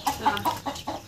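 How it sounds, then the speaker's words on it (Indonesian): A chicken clucks close by in a short run of five quick, evenly spaced clucks, clear and alone. "Hei ayam, kamu."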